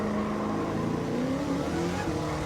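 Roadster Shop Road Rage Camaro race car in a video game, its engine droning loud and steady with the revs climbing and wavering as the throttle is feathered through a corner, no voices over it.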